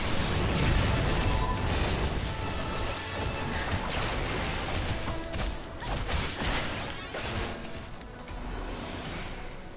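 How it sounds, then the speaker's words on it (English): A battle in the online RPG Final Fantasy 14 erupts with overlapping explosions, crashes and whooshes, loud and continuous with no pause in the chaos. "Explosions everywhere."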